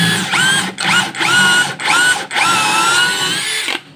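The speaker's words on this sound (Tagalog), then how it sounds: "Subukan naman nating butasan yung kahoy na to, barenahan yung kahoy na to kung okay nga talaga yung binili nating Inco na cordless drill." An Ingco brushless cordless drill bores into a piece of wood in several loud, close bursts, each starting with a rising whine and broken by short pauses, with no talking.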